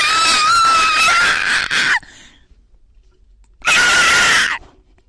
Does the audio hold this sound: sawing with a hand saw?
no